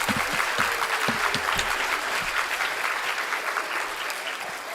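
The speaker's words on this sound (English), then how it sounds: "That was good applause, but I had to prompt them for that" A studio audience on a talk show breaks into loud, steady applause, with a few stray voices and low thumps mixed into the dense clapping that eases slightly toward the end.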